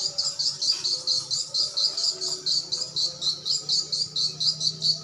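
Rapid, rhythmic high-pitched chirping of many swiftlets around a swiftlet house, pulsing steadily like a call loop, with a faint low hum underneath.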